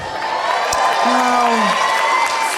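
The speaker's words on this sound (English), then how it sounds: "I don't deserve to be applauded." A large stand-up comedy audience applauds and cheers steadily, a dense wash of clapping with a few whoops rising above it.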